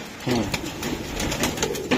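Racing pigeons, including a pedigreed cock bird, coo softly in a loft with a few low, throaty calls over steady background noise.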